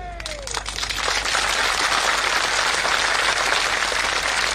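Dense, sustained applause from a large crowd at a political rally in Beed, rising after a brief opening and holding loud and steady throughout.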